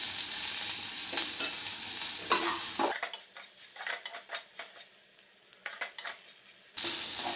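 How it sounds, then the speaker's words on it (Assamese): Peeled ginger and garlic sizzle loudly in hot oil as they are stir-fried in a pan, with scraping stirs, then the frying quietens before a sharp sizzle returns at the end. "পিচি লোৱা আদা অলপ দিলোঁ। ভালকৈ ভাজি লৈছোঁ।"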